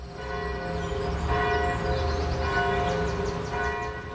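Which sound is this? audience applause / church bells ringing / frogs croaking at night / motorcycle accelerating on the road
church bells ringing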